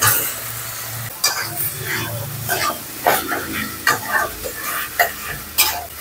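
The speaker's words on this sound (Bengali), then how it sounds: "কষাটা হয়ে গেছে, আমি এই কলা সিদ্ধটা দিয়ে দিচ্ছি।" Boiled young green banana stir-fried in a pan for a spicy curry, with a steady sizzle and repeated sharp scrapes and clinks of a spatula against the pan.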